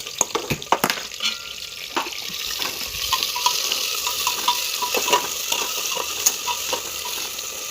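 Onion and tempering spices for masale bhat sautéing in oil, a continuous close sizzle with sharp spoon-on-pan knocks and scraping stirs early on, then a steadier hiss.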